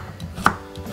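A single crisp knife cut through deodeok root on a cutting board, one sharp chop standing out from a quiet kitchen background.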